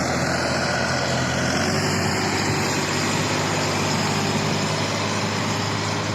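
A vehicle on its way to a rapeseed field runs with a steady, loud engine drone and broadband road rumble that holds constant throughout, with no voices.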